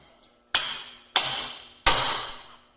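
A hammer strikes a socket set over the upper ball joint on a Dana 60 axle, three loud metallic blows with ringing decay, about half a second apart, close up with no talk.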